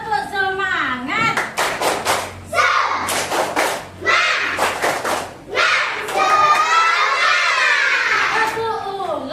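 Schoolchildren do a rhythmic 'tepuk semangat' clapping chant in a classroom: bursts of sharp group claps in patterned runs, mixed with children's voices chanting along, close and lively.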